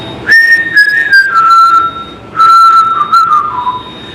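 A person whistles loudly with the mouth alone, no fingers, in two sustained piercing phrases with slight pitch glides and short breaks, close and clear with no talk.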